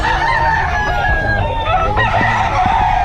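A rooster crows loudly over a crowd of chickens and a constant noisy background, with cackling and squawks layered throughout.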